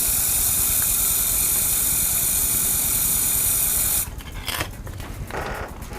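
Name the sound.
spray paint being decanted from a can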